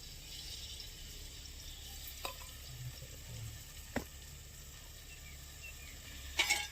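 Masala sizzles in a pan while Maggi noodles are cooked outdoors on a farm: a steady low frying hiss, fairly faint, broken by a few light clicks of a spoon against the pan.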